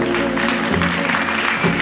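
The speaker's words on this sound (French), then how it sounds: "Et je vous demande d'applaudir très fort" Audience clapping at a celebration, a short burst of applause heard up close, mixed with a steady musical tone and some murmuring voices.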